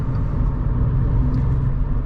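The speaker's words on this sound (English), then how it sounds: "You can see that the car easily speeds to the speed limit" A 2022 VW Up GTI with a 1.0 TSI 115 hp engine and six-speed gearbox pulls along a road at night, heard as a steady, close engine and road rumble with no voices.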